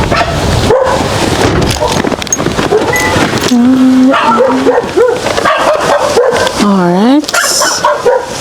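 A dog in the Jamaican countryside yips, whines and barks in rising and falling bursts close by, mixed with people talking and outdoor noise.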